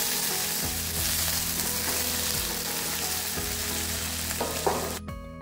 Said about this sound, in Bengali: তেল গরম হলে কেটে রাখা আলু দিয়ে ভালো করে ভেজে নিতে হবে।